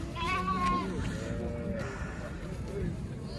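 Sheep bleating at a busy livestock bazaar, a wavering bleat early on and fainter ones later, under constant nearby talk and crowd murmur.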